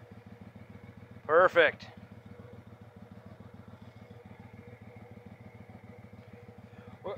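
Kohler Command CV22 small engine, a 23 hp twin, idling with a steady low rhythmic putter throughout, interrupted by a brief burst of speech near the start.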